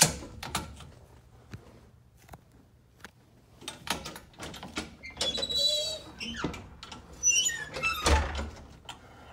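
Vehicle doors on a work truck with a Cummins 6.7 diesel are opened and shut in a series of sharp latching clunks, squeaks and rattles, close by, with no talking.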